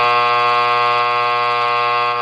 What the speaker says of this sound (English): That's the long version here. The long version of the buzzer.